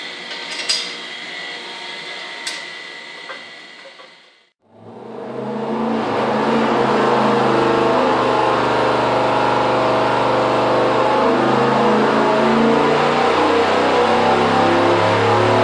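Car engine revving on a dyno with shorty headers: after a few seconds of quieter clanking and shop noise, the engine roars up and holds a loud, sustained high-rpm drone.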